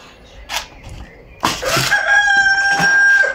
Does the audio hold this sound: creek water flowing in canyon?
no